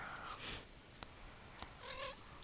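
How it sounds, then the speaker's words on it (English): A cat in the Minecraft video game meows a couple of times, short tonal calls standing out against quiet background game ambience with a few faint clicks in between. "Uh-oh, cat."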